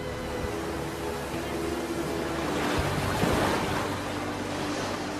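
Broad rushing surf and wind roar steadily, swelling slightly midway, with a faint low hum underneath and no voices.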